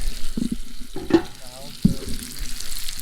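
Pieces of crappie and bluegill fry in a covered hot pan, a constant close-up sizzle with sharp spattering pops and some stirring clatter, with faint voices in the background.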